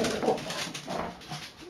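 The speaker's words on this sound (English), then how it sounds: "that's my dogs." Dogs whimper and whine somewhere nearby during indoor hydroponic gardening, a string of soft, wavering calls rising and falling over a faint background.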